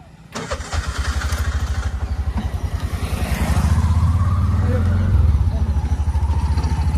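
An auto rickshaw's small engine sputters to life and settles into a steady, rapid putter, getting slightly louder and rougher midway, close by with voices underneath.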